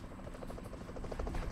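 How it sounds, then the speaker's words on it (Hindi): Helicopter rotor in the battle royale game BGMI, a steady thudding whir with rhythmic blade pulses that grows slightly louder, heard alone without talk. "हेलीकॉप्टर"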